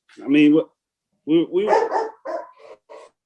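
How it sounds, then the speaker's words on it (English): A dog gives a few close, loud barks and yips in short uneven bursts, with voices nearby. "See, your dog agrees."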